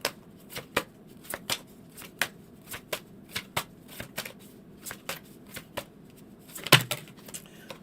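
Tarot cards are shuffled close by in a quiet room, the deck giving a run of short, crisp riffles and taps at an uneven pace, one of them louder near the end, with no voice.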